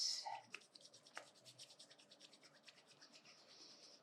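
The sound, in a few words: palms rubbing together to create heat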